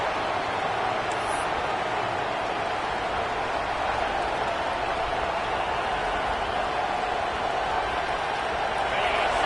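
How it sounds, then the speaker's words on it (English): A dense, steady roar of a stadium crowd in a Madden football video game, continuous and loud throughout without pauses. "This crowd, full throat, spreading the eardrums and letting them know it's going to be a long day"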